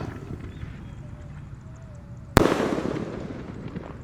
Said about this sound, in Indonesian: Bima Sakti Roman Candle.